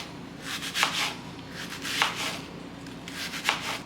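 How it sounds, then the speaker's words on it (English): Knife chopping onion, spinach and parsley on a cutting board in a home kitchen, heard as three rough bursts of close rubbing, scraping cuts with steadier low scraping in between. "next step, we are going to chop up our onion"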